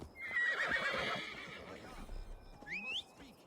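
A horse in the Assassin's Creed Valhalla video game gives a clear whinny with clip-clopping hooves, fairly close and moderately loud, then a second shorter neigh.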